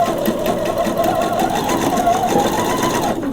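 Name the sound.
sewing machine backstitching a lace underwear seam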